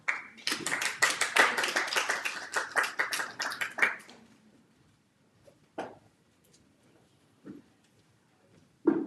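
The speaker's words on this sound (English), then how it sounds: "And now another hand of applause for the excellent panel." An audience at a Geneva panel discussion claps for the panel in a burst of applause lasting about four seconds before fading into quiet, followed by a few isolated taps and knocks.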